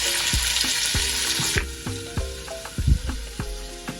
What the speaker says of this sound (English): So now I'm going to put in the meatball.